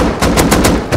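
Rapid bursts of AK rifle fire in the Rust survival game, about five loud evenly spaced shots cracking over a dense, noisy background.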